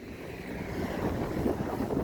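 Steady outdoor wind rushing across the microphone on a cold winter day of minus 6 degrees, a continuous low roar that swells slightly over the short stretch, with no voices.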